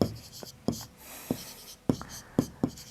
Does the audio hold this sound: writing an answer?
yes